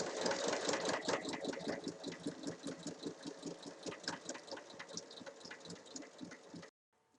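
A sewing machine stitches along the four sides of a square fabric bag, its motor whirring in quick regular pulses, close and steady, slowing slightly before stopping abruptly near the end.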